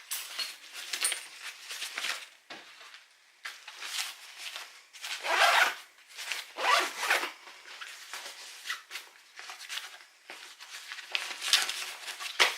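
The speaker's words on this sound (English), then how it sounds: "YKK zippers, self-healing. You can yank the shit out of this thing" A YKK zipper on a Vertx Gamut backpack being worked open and shut in a string of quick rasping bursts, each pull close and crisp, with short pauses between strokes and no talking.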